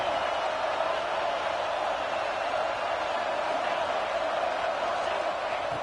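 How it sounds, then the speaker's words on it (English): Steady, dense crowd roar from a video-game stadium during an NCAA 26 college football game between Texas A&M and Georgia, a constant wash of noise throughout with no distinct peaks. "here comes the noise. This crowd is trying to inspire this defense to make a big red zone stop"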